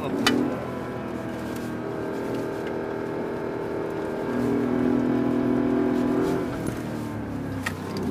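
Mercedes-Benz G63 AMG with a dual-clutch gearbox driving, its engine drone steady throughout and a pitch swell near the middle as it pulls through gear changes, heard from inside the cabin.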